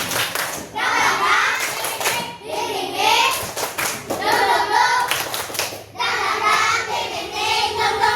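Children in an online coding and artificial intelligence class clap a rhythmic cheer, quick patterned bursts of hand claps repeating in several rounds, close and loud, with young voices chanting along.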